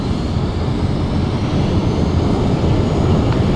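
Steady, loud jet turbine roar from an aircraft in the video game Battlefield Play4Free, a continuous broadband rumble heavy in the low end with no breaks, no voices and no other sounds.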